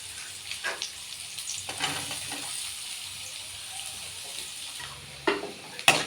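Onions frying in a pan with ginger and garlic for egg manchurian, a steady soft sizzle with faint stirring and a few scraping clicks near the end.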